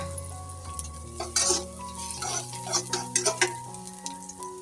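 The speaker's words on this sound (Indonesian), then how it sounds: "Kita tumis sampai bawang bombaynya itu tercium wangi dan layu ya." Sliced onion sautéing in a little oil in a pan gives a steady soft sizzle, with a few clinks and scrapes of stirring close by.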